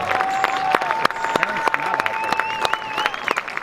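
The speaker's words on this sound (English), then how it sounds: "Let's give one more big round of applause for the class of" An outdoor crowd at a 5k road race in Lawrence, Kansas applauds the class of 2025, brisk scattered clapping and a few cheers under a thin, lingering whistle-like tone.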